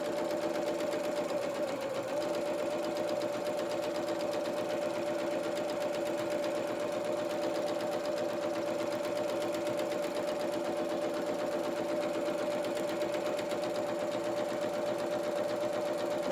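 A sewing machine runs steadily while stitching the hem of a pinafore, giving a continuous close mechanical whirr with a fast even rhythm that holds for the whole stretch without pause or talking.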